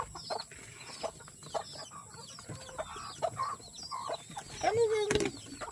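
A chicken clucking close by in short, irregular calls, with light background activity and people speaking softly at moments.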